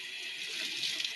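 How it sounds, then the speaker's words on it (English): Hot water runs from a tap at low pressure, a soft steady hiss of flowing water, fairly quiet and unbroken. "The water pressure for the hot water"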